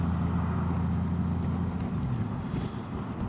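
A Honda Gold Wing motorcycle engine runs steadily up close, a continuous loud rumble mixed with rushing wind noise, with no voices.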